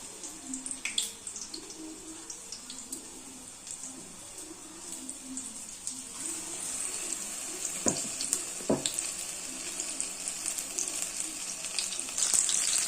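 Tomatoes sizzling in oil in a pan, a low steady frying hiss with a few sharp pops and clinks, growing a little louder partway through.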